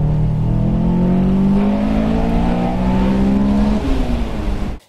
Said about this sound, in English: you can hear the engine pick up noise and the car makes quite a bit more power